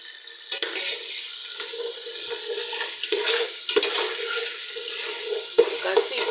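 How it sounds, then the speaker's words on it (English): Tomatoes frying in a pan for a potato and vegetable porridge give off a continuous hiss and sizzle, broken by sharp scraping stirs, loud and close, with no talking. "let's wait and fry it for like 5 minutes before we continue with other ingredients."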